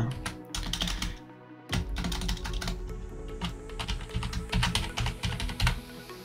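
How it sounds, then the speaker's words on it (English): Rapid typing on a computer keyboard while entering text in a design app, with close, dense clicking keystrokes that break off briefly and then resume in uneven bursts. "let's add some text to it. So just click here on text. Okay, and then let's type"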